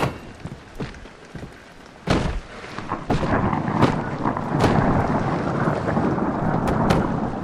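Heavy rain in the horror video game Amnesia: Illusions of the Dead, a dense steady downpour with sharp thunder-like cracks and rumbles breaking through, loud and with no talking.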